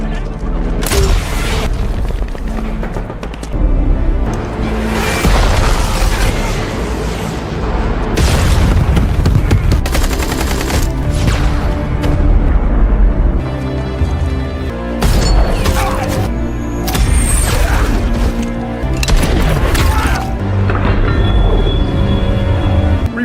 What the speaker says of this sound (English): We're taking taking RPG fire on the southeast side of the compound